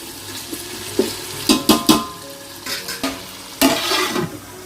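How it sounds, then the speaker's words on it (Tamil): Food sautés in a frying pan during home cooking, with a low sizzle and a few scattered scrapes and stirs that are fairly close, sometimes louder and sometimes softer. "நல்லா வதங்கட்டும்"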